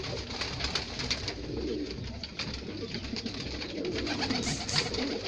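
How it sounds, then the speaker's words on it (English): Pigeons in a breeding loft cooing repeatedly, soft overlapping calls against a constant low rustle of many birds close by. "Lots of birds."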